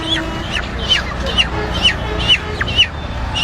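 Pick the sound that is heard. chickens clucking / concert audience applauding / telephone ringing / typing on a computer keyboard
chickens clucking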